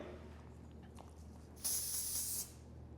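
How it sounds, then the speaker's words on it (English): A can of medium hold hair spray releases a single hissing burst of just under a second, close and fairly loud against a quiet room. "Now that's typically how I would spray it from that distance"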